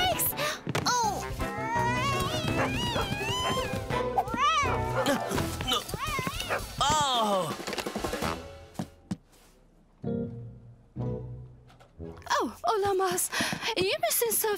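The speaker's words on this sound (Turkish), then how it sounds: "sanırım Cooper kedi kovalamayı seviyor." A cartoon cat meows and yowls repeatedly while being chased by a dog in a children's animated show, wavering cries mixed with thumps and a stretch of talk near the end.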